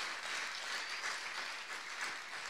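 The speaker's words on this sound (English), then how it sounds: "Let's give Jesus a clap, huh?" Church congregation clapping during a sermon, a steady, fairly quiet patter of many hands heard from across the room, continuous and without speech.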